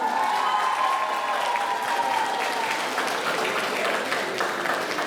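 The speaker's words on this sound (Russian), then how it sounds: "Аплодисменты артистам." Sustained applause from an audience for performers at a New Year show, a dense, even roar of clapping with faint cheering, continuous throughout.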